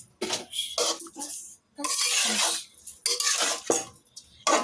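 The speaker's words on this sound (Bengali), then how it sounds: "এগুলো এখন ভালো করে কষিয়ে নেব," A metal spoon scrapes and clatters against a pan as a curry with green chilies is stirred and fried, in several sharp bursts broken by short silences, close by and with no one speaking.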